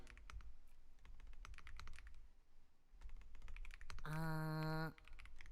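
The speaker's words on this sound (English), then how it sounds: "Let me be sure that I'm typing it all correctly" Rapid, steady keystrokes tap on a computer keyboard throughout, close and clear, briefly overlapped by a ringing electronic chime near the end.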